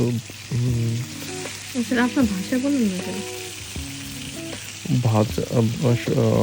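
Hilsa fish sizzles in frying oil as a continuous crackling bed under a person speaking in Bengali, with the frying noise clearer in the pauses between phrases.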